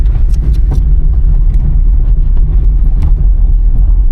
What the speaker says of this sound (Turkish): Şuraya şöyle arabamızı koyalım.